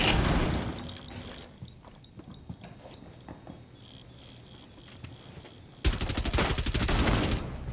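Video-game gunfire from a heavy-recoil weapon: a loud, rapid stream of shots at the opening, a quieter stretch of scattered shots, then another dense sustained burst near the end.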